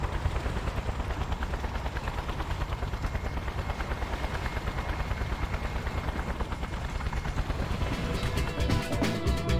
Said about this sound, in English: The helicopter actually damaged me as it was coming down